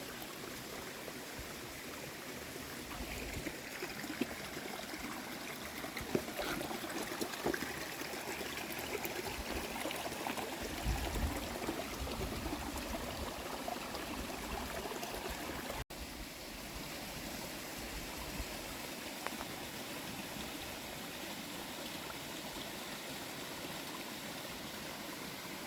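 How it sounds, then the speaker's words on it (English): Continuous rushing and splashing of water from a small waterfall falling into a stream on a hiking trail, steady and close, with no voices. "But it goes down into the stream. Little waterfall."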